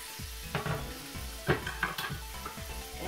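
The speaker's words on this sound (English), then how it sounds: "And I cook them a little bit crispier than you normally cook bacon." Six bacon slices fry crisp in a pan with a constant close sizzle and pops, broken by a few sharp clinks and scrapes of a utensil turning the strips, and no one speaking.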